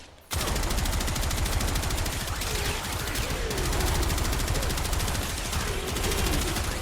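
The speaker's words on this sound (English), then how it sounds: "the enemy will explode, dealing damage to the other enemies in the nearby area" Enemies blowing up in Warframe under Nova Prime's ability, a dense, relentless barrage of loud crackling blasts and impacts that starts abruptly and continues without a break.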